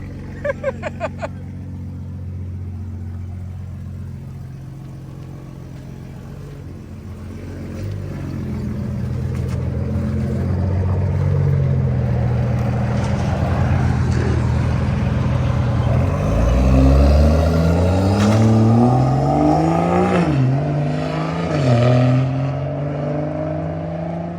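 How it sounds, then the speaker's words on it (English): A Lamborghini's engine idling loudly nearby, then revving repeatedly in rising and falling surges for over twenty seconds, with no talk over it. "Loud ass car!"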